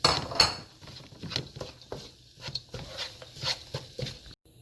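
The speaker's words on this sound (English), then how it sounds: "Next I'm going to add the rice and mix it again." A spoon scrapes and clinks in a pan as rice is mixed with lemon juice and seasoning for lemon rice, repeated uneven scraping strokes close by, fairly quiet and with no voices.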